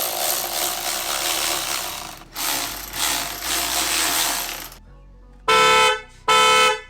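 A ratchet tightens the clamp on a turbo inlet pipe in the engine bay of an MK8 Golf R. Loud, close clicking runs for several seconds, pauses, then returns, followed by two short bursts of rapid ratcheting at the end.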